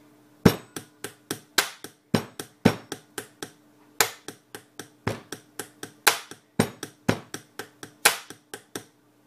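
Pens tapped on a surface play a quick rhythmic beat of sharp, clicky hits in repeating groups with brief pauses between phrases, close and crisp, with no talking.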